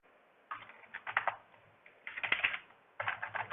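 Someone types code on a computer keyboard in quick, close clattering bursts of keystrokes, separated by short pauses.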